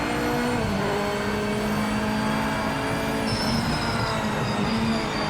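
BMW M3 GTR engine in the racing game Project Motor Racing, a steady, continuous droning engine note with tonal harmonics held at a constant pitch throughout, loud and alone with no talking.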